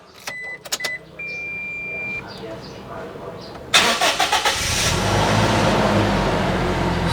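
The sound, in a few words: Toyota Kijang Innova G petrol 2014 engine starting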